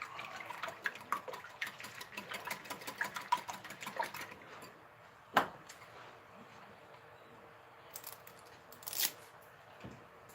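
A small whisk beats a mixture in a bowl, making a rapid, light ticking of strokes for several seconds before stopping, followed by a couple of faint knocks and clatters nearby.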